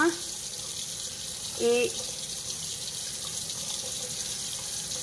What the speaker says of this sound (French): Je le rince sous l'eau froide rapidement.